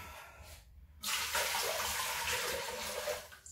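Water gushes steadily from a tap into a slow cooker for a rabbit pie, starting abruptly after a brief quiet moment and running loud and continuous until it cuts off near the end.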